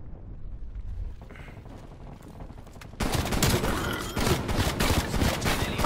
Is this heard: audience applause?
no